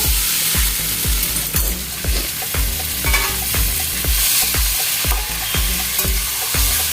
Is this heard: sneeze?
no